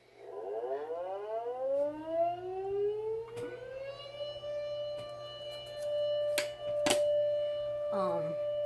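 A tornado siren from a home collection winds up from a low growl into a loud, steady, sustained wail, with a few sharp clicks and knocks during the run.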